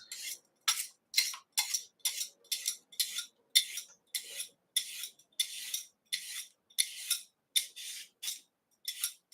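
A peeler scrapes down a carrot being prepped for broth, about fifteen quick, crisp strokes in a steady rhythm, close up and alone with no voices.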